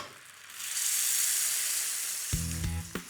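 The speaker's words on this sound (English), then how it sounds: "we'll just whisk that small amount of butter in" A small amount of butter whisked into a red wine sauce in a stock pot: a steady, close sizzling hiss, then a few sharp scraping clinks near the end.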